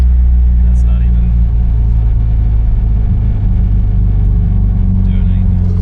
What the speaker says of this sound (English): Trying to give it a little gas. Yeah, every time it's like flooding out or something.